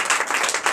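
A church congregation applauding during a night deliverance service, a brief burst of dense clapping from many hands.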